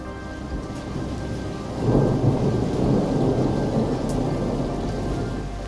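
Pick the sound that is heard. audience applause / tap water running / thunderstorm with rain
thunderstorm with rain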